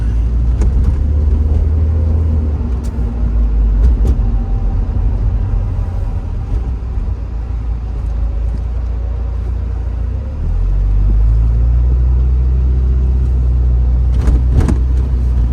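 A 1992 Porsche 968 Cabriolet cruises along a Michigan highway, its engine a loud steady low drone with road and wind rumble heard from inside, the pitch rising slightly late on as it pulls harder.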